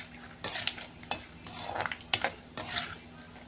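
Peanuts frying in oil in a pan for Maharashtrian chivda, a soft steady sizzle broken by sharp metal clinks and scrapes of a spoon stirring against the pan.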